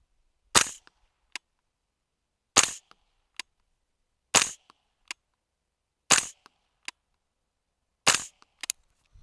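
A training rifle fires five sharp, evenly spaced shots at an outdoor range, each crack followed by a faint echo or target tick, with quiet between them.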